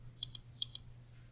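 Typing on a computer keyboard while searching a class registration site, four crisp, faint clicks in two quick pairs over a quiet low hum.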